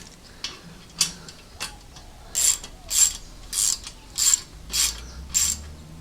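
A hand ratchet clicks through a series of short, even bursts while tightening a 10mm bolt during a gasket install, each stroke a crisp, close metallic rattle with brief pauses between, no talking.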